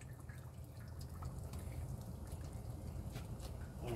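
Hot water drains and drips steadily from freshly scalded chickens, a continuous low liquid trickle with scattered small drips outdoors.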